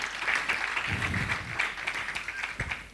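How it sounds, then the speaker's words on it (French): Congregation at a church service applauding, a continuous, moderately quiet patter of many hands clapping that carries on throughout with no talk. "Wir applaudieren noch einmal für den Herrn."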